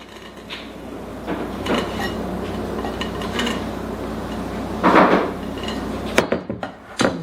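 A spoon works flour mixture into bran muffin batter made with molasses and buttermilk, with a soft, thick stirring rub, occasional scrapes against the bowl, and a few knocks near the end.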